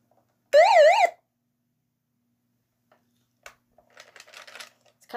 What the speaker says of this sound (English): It's got a siren.